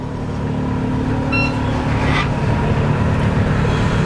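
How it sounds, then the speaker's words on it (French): The engines of a Fountaine Pajot Lucia 40 catamaran start: steady engine rumble with a low droning hum, a brief beep near the start, and a continuous idling motor sound throughout. "il suffit d'appuyer sur le bouton Start."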